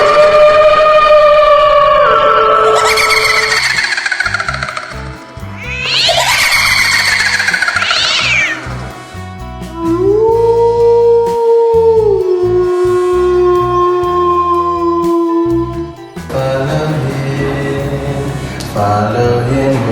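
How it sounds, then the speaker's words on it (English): Spooky Halloween sound effects: drawn-out, wavering cat yowls and mournful howls rise and fall in long sustained cries, loud and close, with shifting eerie tones throughout and no talking. "Classic spooky sound effects."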